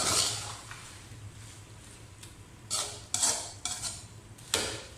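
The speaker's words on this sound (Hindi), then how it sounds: "एक बार इसे हल्के हाथ से मिक्स कर देंगे" A spoon gently stirs bhindi chicken in a cooking pot, quiet scraping at first, then several sharper metallic clinks of utensil against pot near the end.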